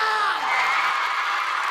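A studio audience on a Korean entertainment show applauds and cheers to encourage a tearful singer, a dense, steady wash of clapping mixed with high crowd whoops and shouts, loud and sustained throughout.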